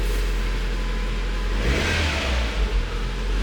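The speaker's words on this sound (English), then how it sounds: "the car's cold, so I'll not give it too hard a rev" A cold Renault Megane R.S. 265 engine idles, then revs up briefly in a couple of moderate bursts before dropping back to a steady idle.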